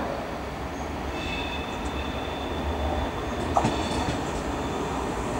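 A train rumbles at Milano Porta Garibaldi station, a steady low rolling noise with brief metallic squeals and a clank, heard from fairly close with no speech.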